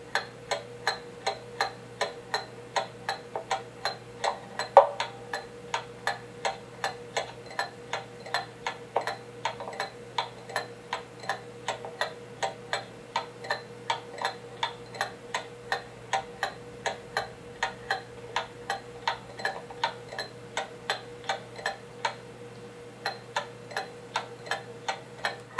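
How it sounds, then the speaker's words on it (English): A mechanical clock movement ticks steadily in even beat after adjustment on a repair bench, a regular close tick-tock running throughout with no talk. "Now the clock sounds like it's in beat"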